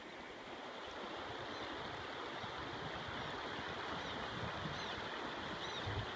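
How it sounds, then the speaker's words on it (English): A flat river in Lees Valley runs as a steady, broadband rush of flowing water, close and continuous, with faint wind mixed in and no talking. "Here's the river"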